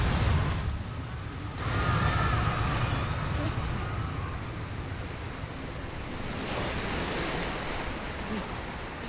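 Churning underwater wash in Bioshock, a broad steady rush of water with swelling surges, loud and enveloping throughout.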